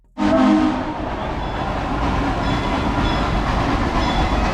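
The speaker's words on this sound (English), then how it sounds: "Here comes the train, number 504." Amusement park train number 504 at an 1880s-themed park arrives with a sudden loud onset, then a steady rumbling, clattering roll that continues close by, with no voices.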